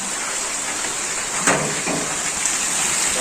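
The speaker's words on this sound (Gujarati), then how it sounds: "અહીંયા વરસાદ અત્યારે ચાલુ છે" Steady rain pours down in a continuous hiss, with a couple of louder splashes or gusts briefly rising above the wash of falling water.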